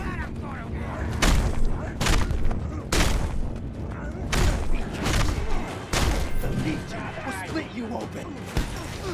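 Heavy shots and crashing booms in the Mad Max video game hit in a loose, repeated rhythm over a loud, busy action scene, with someone talking throughout.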